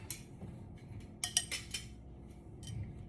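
A spoon clinks against a glass while a mojito with lemon is stirred. A few bright metallic taps sound close and fairly quiet over a low background hum.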